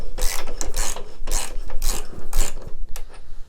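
A small hand ratchet with a socket loosens a nut on a motorcycle rear brake, giving close, loud bursts of rapid clicking in several strokes.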